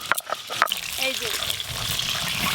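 Pomfret (rupchand) fish frying in oil in a pan, a steady bright sizzle and hiss that swells after a few clinks at the start, with a voice speaking faintly over it.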